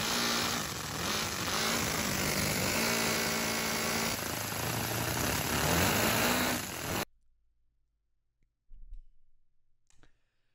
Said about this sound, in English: made an engine out of Legos